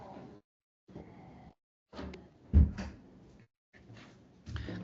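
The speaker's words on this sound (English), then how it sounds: "to close the door" A door is pulled shut indoors during an online meeting, landing as one solid low thud partway through, with people talking before and after it.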